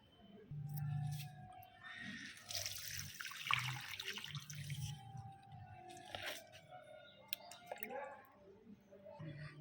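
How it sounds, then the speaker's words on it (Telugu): Water splashes and trickles onto potted hibiscus plants during watering, a soft running pour with small drips and gurgles, while a person talks quietly over part of it. "సో అన్ని మొక్కలకి వాటరింగ్ చేసి కలుస్తాను."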